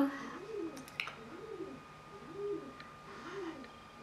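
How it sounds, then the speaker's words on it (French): A bird perched on an apartment balcony gives about four soft, repeated cooing calls at a steady pace, faint and fairly close, with light indoor background noise. "il y a un oiseau sur mon balcon"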